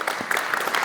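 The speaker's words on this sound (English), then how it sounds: "a little round of applause" An audience at a software testing conference gives a short, dense burst of clapping, close and loud, lasting under a second.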